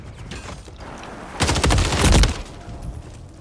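Rapid submachine gun fire in the Call of Duty: Modern Warfare 3 video game, a loud dense burst of overlapping shots lasting about a second, set against quieter game noise before and after.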